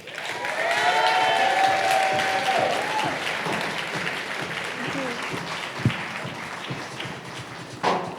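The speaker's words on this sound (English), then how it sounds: "So big round of applause." Audience applause at a startup pitch event, full at first and gradually thinning, with a few thumps and taps as it fades and a brief voice heard over the dying claps.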